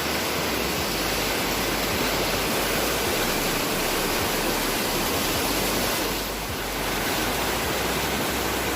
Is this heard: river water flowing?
yes